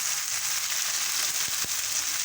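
Tomatoes frying in a pan for a potato curry give a steady, close, bright sizzle throughout, with a couple of brief sharper crackles near the end and no talking.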